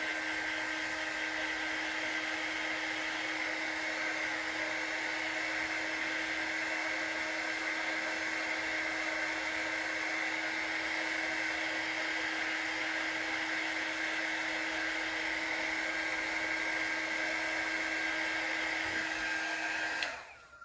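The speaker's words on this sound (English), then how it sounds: "And I like this because using my blow dryer, it blows everything around." Hair blow dryer runs continuously at close range, a steady whirring hum with a constant pitch for about twenty seconds before switching off at the end.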